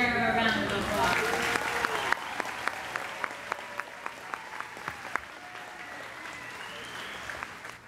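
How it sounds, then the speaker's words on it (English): An audience at a pageant claps, starting as a dense burst and thinning to a few scattered, distinct claps before fading, with voices and music-like tones underneath. "They all deserve a round of applause."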